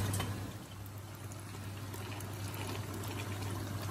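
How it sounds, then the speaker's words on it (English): Saved chickpea cooking water is poured into a pan, a soft continuous splashing trickle that stays fairly even throughout, with a low steady hum underneath and no voices. "And now she's going to add this water that she saved in"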